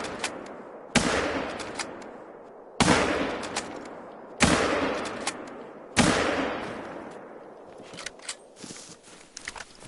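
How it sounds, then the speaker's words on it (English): Four loud rifle shots ring out about every one and a half seconds in theHunter: Call of the Wild, each a sharp crack with a long decaying echo, followed by quieter mechanical reloading clicks. "I want to see if I can explode this with bullets."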